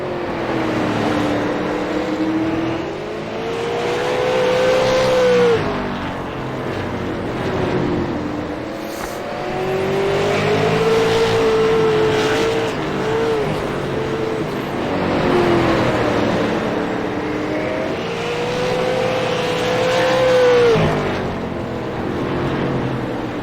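Super late model race cars lapping a track at Southern National, engines roaring loud and continuous, the pitch swelling and falling as cars sweep past in repeated waves, with no commentary heard.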